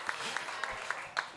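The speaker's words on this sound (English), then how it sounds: "so everyone give Tammy applause." Brief applause from an audience at a hurricane damage and insurance claims talk: a handful of distinct, evenly spaced claps over a murmuring room, lasting just over a second.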